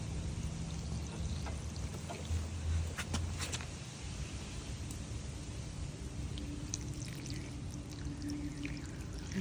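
Water poured at the base of blooming garden flowers, a soft, steady trickle and splash that runs quietly and continuously throughout, with faint outdoor background noise.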